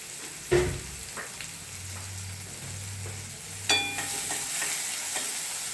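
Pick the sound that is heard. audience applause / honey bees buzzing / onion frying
onion frying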